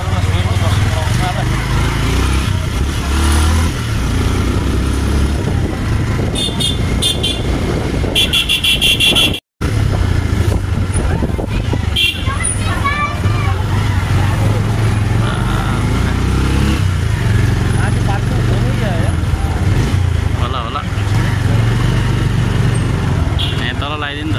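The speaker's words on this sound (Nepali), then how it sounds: "बाइक चाहिँ यता पार्किङ हुँदैछ" A motorcycle engine rumbles nearby while being parked at Swayambhu in Kathmandu, mixed with traffic noise and people talking throughout, with a brief cutout partway.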